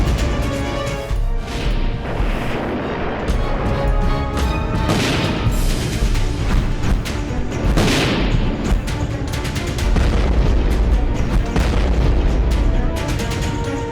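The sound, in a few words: bomb explosions in military strike footage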